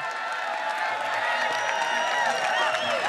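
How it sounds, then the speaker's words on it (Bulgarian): Audience at a Balkanian strongman competition in Albena, Bulgaria, applauding and cheering as a steady, dense wash of crowd noise that holds level throughout with whoops and voices mixed in. "Аплодисменти!"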